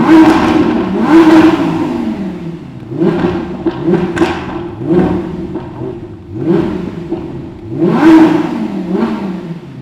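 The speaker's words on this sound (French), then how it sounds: "Tu vois une R8 en vrai avec l'échappement d'origine, t'as même pas besoin de ligne." An Audi R8 on its stock exhaust revs hard and close, throttle blips rising and falling in repeated surges with short pauses between them.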